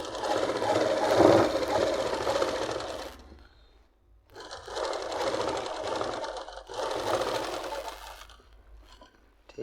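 Sewing machine stitching palazzo pants, running in three steady bursts of fast, even whirring with short pauses between them, close and loud with no talking.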